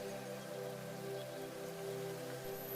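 Rain falls in a soft, steady wash with a faint low hum underneath, distant and quiet, without voices.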